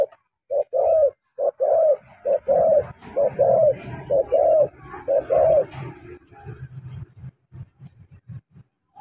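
A caged spotted dove gives a run of close, clear rhythmic coos, followed by softer low rumbling notes and faint background noise.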